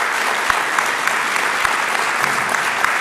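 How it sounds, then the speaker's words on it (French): Audience applause at a French-language congress opening, thanking the organizers: a dense, steady wash of clapping hands throughout the short stretch, fairly close and with no speech over it. "je crois que vous pouvez juste les applaudir si vous êtes d'accord."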